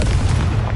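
A brief, loud, deep explosive burst from a Confringo spell in the Hogwarts Legacy video game, heavy in rumbling low tones.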